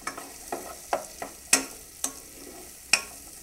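A pot of tomato soup seasoned with salt and fresh cracked pepper being stirred, with about eight distinct spoon knocks and scrapes against the pot over a low simmer, near and without talk.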